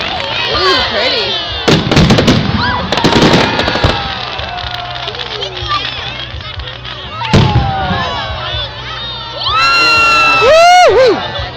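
Fourth of July fireworks at a crowded outdoor show, with booming bursts and crackles, whistling rockets near the end, and people and children cheering and shouting throughout.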